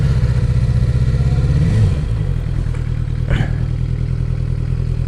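Motorcycle engine running loud and steady, then its tone drops as the bike slows under an abrupt front-brake squeeze, with a brief clatter near the end; no talking.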